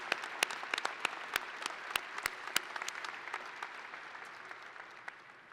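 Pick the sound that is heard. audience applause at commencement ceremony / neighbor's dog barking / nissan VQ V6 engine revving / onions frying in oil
audience applause at commencement ceremony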